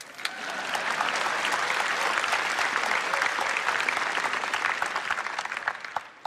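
Dense, steady audience applause filling the room at a tech presentation, many hands clapping continuously for several seconds with no voices over it.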